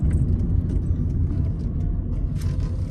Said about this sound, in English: And now what we're going to do is turn around.